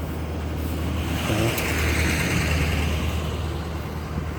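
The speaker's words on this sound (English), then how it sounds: "I'm also hearing a truck coming up behind me" A truck rumbles steadily close by, coming up from behind, its broadband road noise swelling slightly in the middle as it approaches, with no talking.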